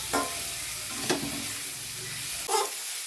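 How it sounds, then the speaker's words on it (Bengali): Potatoes and spices sautéing in oil in a pan, a steady close sizzle broken by three brief stirring scrapes, no voices. "আলুটা ভালো মতো কষানো হয়ে গেছে মশলা দিয়ে তেল ছেড়ে দিয়েছে"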